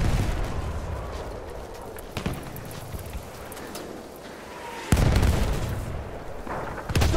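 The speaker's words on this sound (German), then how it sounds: "Auch Granate raus." A grenade blast in the World War I shooter Battlefield 1, one heavy explosion booming out of constant battlefield rumble and distant gunfire, with a few lighter bangs around it.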